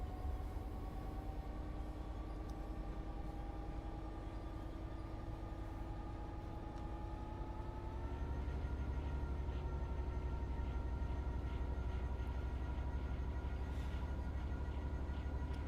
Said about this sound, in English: we are running the railhead treatment train through the tunnel